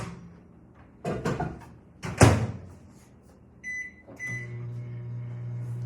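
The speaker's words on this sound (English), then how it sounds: "Then I put it in the microwave for 30-second intervals until I get it melted" A microwave oven heating chocolate for ganache: a door opens and shuts with clunks, beeps sound, then a steady low hum as it runs.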